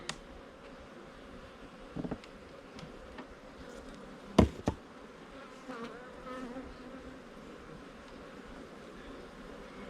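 Honey bees buzz around an open hive frame during a September queen replacement, a steady low drone with a few louder passes close by, worked by a gloveless beekeeper.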